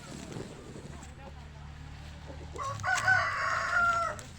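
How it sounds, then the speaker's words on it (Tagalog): Free-range farm chickens heard nearby, with a clear crowing call near the end over a low background drone. "So marami po silang chicken."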